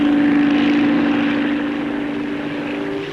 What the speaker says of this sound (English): Helicopters showing their paces included the Bristol Type 173. This is a twin-rotor tandem engaged in flight research